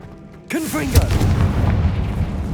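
Confringo fire spell in Hogwarts Legacy bursting with a sudden loud boom after a quiet moment, followed by swooping tonal whooshes and a rumbling crackle that lingers and slowly fades.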